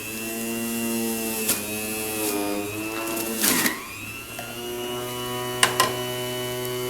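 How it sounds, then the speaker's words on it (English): An Omega O2 4000 centrifugal ejection juicer whirs steadily with a harmonic motor whine while carrots are fed through its small chute, with a few harder grinding bursts as pieces hit the spinning blade, close and continuous. "let's open up that bag and start feeding some carrots in."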